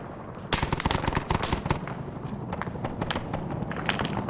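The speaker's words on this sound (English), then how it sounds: "They're firing PKM rounds at this group here." PKM machine gun fire in a combat video game: rapid bursts of loud, close shots dense for the first second and a half, then continuing as steadier, somewhat softer fire.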